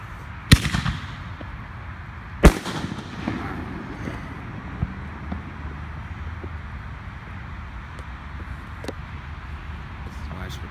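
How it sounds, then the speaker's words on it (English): Canister shell fireworks go off at a small pre-July 4th gathering: two sharp, loud booms close together near the start, then scattered fainter pops and crackles over a steady outdoor rumble. "And watch this guy's canister shells."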